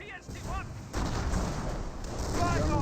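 Grenade blasts and gunfire in a Company of Heroes 1 match between German Wehrmacht and British forces, with a sustained roar of explosions and rattling shots, loud throughout, rising after the first second.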